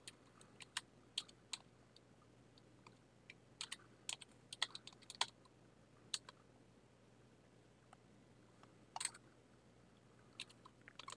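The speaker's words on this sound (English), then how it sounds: "And then you will start typing." Soft keyboard typing, irregular clicks and short clusters of key presses, faint and close against a quiet low hum.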